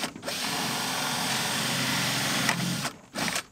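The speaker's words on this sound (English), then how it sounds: "I'll actually drill backwards first so I don't blow out the soffit plastic." A power drill spinning in reverse through plastic soffit trim whirs steadily and loudly for about two and a half seconds, then stops and gives a short second burst, with no voices.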